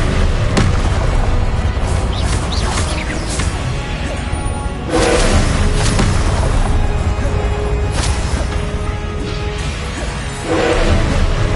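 Repeated Confringo fire spell blasts from Hogwarts Legacy boom and crash in a dense, loud series over a constant rumbling bed, with whooshing bursts mixed in and spells called out in between.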